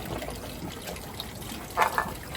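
Water pours and trickles at a temple purification fountain in a steady, close splashing stream, with a brief louder splash near the end.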